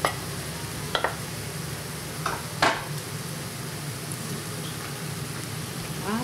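Minced meat sizzles in a pan with zucchini flesh and tomatoes, a soft continuous frying hiss broken by a few sharp clicks and taps of stirring.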